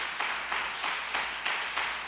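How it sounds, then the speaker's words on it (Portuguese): Applause from a church congregation, a steady wash of many hands clapping with a slight rhythmic pulse, fairly close and continuous. "Dá um aplauso ao Senhor pela sua vida em nome de Jesus aí"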